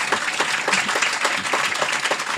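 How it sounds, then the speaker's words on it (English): A crowd at a morning political talk event in Chilmark applauds steadily, with dense, even clapping throughout and no voices standing out. "Far be it to me to interrupt Glenn's applause. Keep applauding."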